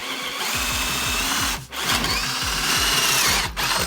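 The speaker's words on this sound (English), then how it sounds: "My drill press isn't really equipped for such large pieces" A drill press bores holes into a large table piece for adjustable feet, its motor whining loudly and steadily with a rhythmic chattering grind, briefly dipping twice as the bit catches or eases off.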